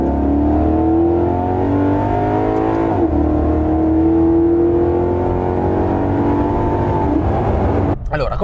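A 2020 Maserati GranTurismo MC's naturally aspirated Ferrari V8, making 460 horsepower, revs loudly. Its droning engine note climbs and dips in pitch, with a sharp shift around the middle and an abrupt change near the end.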